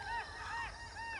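Migratory winter birds give harsh, honking calls in quick succession, several overlapping cries at moderate distance over a low outdoor rumble.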